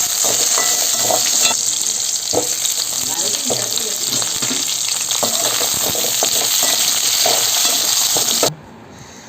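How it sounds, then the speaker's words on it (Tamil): Tomatoes, shallots and red chilies sauté in a pan for tomato chutney, a loud, continuous sizzle with scattered scraping and stirring knocks that cuts off abruptly near the end. "நல்லா வணக்கியாச்சுங்க."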